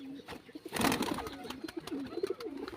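Dilbaz pigeons, a matched male and female pair, cooing in low, throaty rolling bursts close by, with handling rustles and a brief scuffle of movement; faint and fairly quiet overall.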